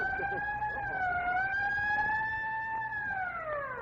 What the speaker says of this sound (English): There's that darn siren again